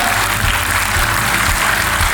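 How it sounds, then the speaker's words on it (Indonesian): Loud, dense applause from a large audience at a leadership training event, continuous clapping that fills the room evenly throughout. "Kasih tepuk tangan dulu untuk Skill Academy Indonesia"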